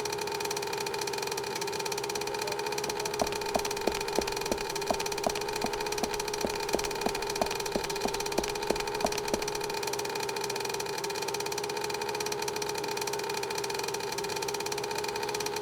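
A boat engine idles steadily in a video game, a constant low drone with a rapid rattling pulse in the middle stretch, holding at an even level throughout with no talking.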